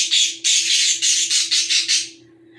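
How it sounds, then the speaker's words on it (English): Pet birds squawk loudly in a rapid run of harsh, repeated calls, nearly continuous for two seconds before trailing off, with no talking. "anytime you hear how my birds are going back and forth"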